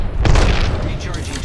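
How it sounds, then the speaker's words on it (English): A grenade explosion in a video game, a loud, deep boom that starts right away and rumbles on through a short stretch of game noise, with a voice speaking over it. "Grenade, watch out."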